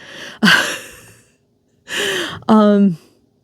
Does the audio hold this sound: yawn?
yes